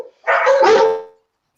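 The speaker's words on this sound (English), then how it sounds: "Now on the dog's barking right at the right time." A dog barks in a quick, loud burst lasting about a second, close by, with no talking over it.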